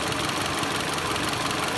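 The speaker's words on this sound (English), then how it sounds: "you can see that the engine is running badly, which means the injector is not working" A car engine runs roughly with one fuel injector disconnected, a steady, dense, close mechanical drone with uneven pulsing and no voices.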